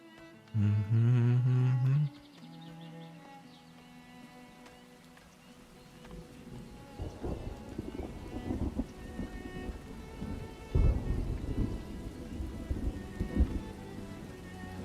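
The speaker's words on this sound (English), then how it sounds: "Wow, lots of rain. Lots of rain out there." Heavy rain patters steadily in a medieval city builder game, with deep rumbles of thunder rolling through and a loud crack near the end, after a brief tonal game chime at the start.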